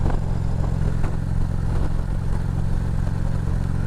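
A Harley-Davidson Sportster with an Evo engine runs steadily in a low, loud, throbbing rumble that stays constant throughout, close by and with no talk.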